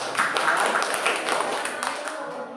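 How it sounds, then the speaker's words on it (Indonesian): An audience claps for a group after a school cultural performance of a welcome dance. The applause is steady and crowded, with murmuring voices mixed in, and it fades slightly toward the end. "Tepuk tangan."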